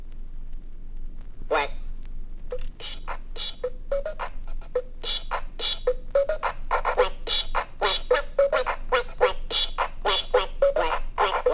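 Repeated loud duck quacks from the show Tux and Fanny, an irregular run of short nasal squawks coming quicker over the second half over a light background.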